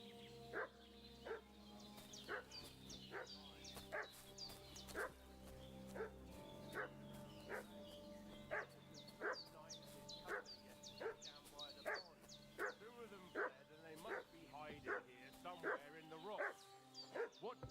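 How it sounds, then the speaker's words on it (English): A dog in the medieval game Kingdom Come: Deliverance II barks repeatedly in a steady, agitated series of sharp yaps and whimpers over ambient game sound, fairly close and persistent. "What's that dog making such a fuss about?"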